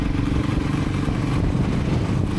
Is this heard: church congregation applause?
no